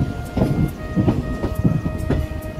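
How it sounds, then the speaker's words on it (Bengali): The Kanchanjunga Express, on its run from Kolkata toward Agartala, rumbles along a curve into Lumding, heard from inside with rhythmic bursts of wheel clatter and a steady tonal hum, close and fairly loud, with no voices. "আমাদের ট্রেন এখন লামডিং এ ঢুকছে।"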